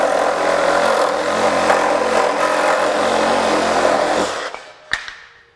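A Craftsman V20 brushless reciprocating saw, model CMCS351B, fitted with a Milwaukee Axe blade, buzzes loudly and steadily through wood for about four seconds, then winds down and stops, followed by a sharp knock.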